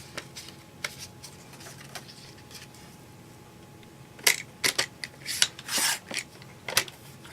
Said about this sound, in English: I'm going to take a piece of my blue paper, and I'm going to trim this 1 inch. I trim that part off.